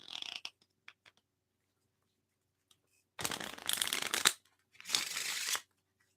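Tarot cards are shuffled close to the microphone, with a few light card taps followed by two loud, riffling bursts of about a second each, separated by a short pause.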